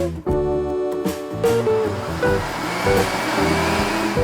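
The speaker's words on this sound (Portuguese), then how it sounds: "Aqui vamos bater por 2 minutos." A blender whirs steadily while mixing cake batter of eggs, oil, sugar, milk and raisin water, a loud, continuous motor drone with shifting tone, close up and without talk.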